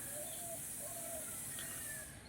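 A female pigeon of the Naphta breed coos softly, a few faint, drawn-out calls over a steady hiss with no talking.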